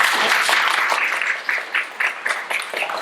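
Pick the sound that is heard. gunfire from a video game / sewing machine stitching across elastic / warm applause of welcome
warm applause of welcome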